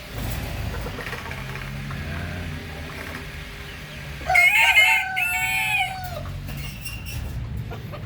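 Rhode Island Red chickens in a backyard, with a rooster's loud, wavering crow rising clearly over a steady low rumble of ambient noise and faint clucking.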